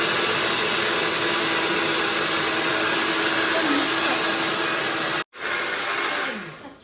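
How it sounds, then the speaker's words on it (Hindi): A blender grinding green chutney whirs loudly and steadily at close range, with one brief stop before starting again and winding down at the end. "तो हल्का सा पानी डालेंगे ताकि ब्लेंडर चले"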